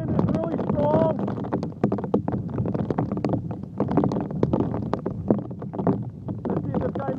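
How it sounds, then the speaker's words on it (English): Strong hurricane wind from Hurricane Sandy in flooded Wildwood buffets the microphone in rough, rumbling gusts, with people talking briefly under the roar. "The wind is really strong."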